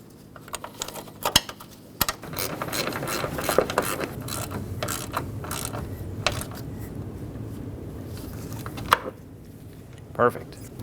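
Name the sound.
tightening radiator mount bolts on Ford F-350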